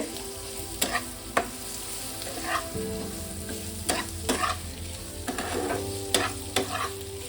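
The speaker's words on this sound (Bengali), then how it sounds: "এবার আমি দিয়ে দেবো পনিরটা। পনিরটা দিয়ে একটু নেড়ে" Paneer cubes being stirred and fried in a pan, a steady sizzle broken by repeated spatula scrapes and knocks at an irregular rhythm, close up with no voices.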